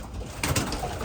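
Racing pigeons coo softly inside a new loft, a brief low murmur of calls rising partway through against quiet room noise.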